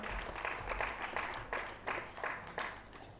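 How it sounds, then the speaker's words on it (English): Applause for quiz winners at a national financial literacy quiz, fairly faint clapping with uneven bursts of emphasis throughout. "Let's keep the applause going for both of them."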